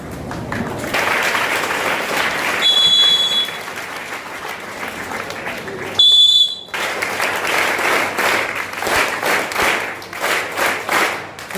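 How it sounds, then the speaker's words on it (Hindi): An audience at a felicitation ceremony for an ISRO scientist rises in a standing ovation, loud sustained applause filling the hall, with shrill whistles and squeals cutting through twice. "I want all of you give a standing ovation to Master अनुभव।"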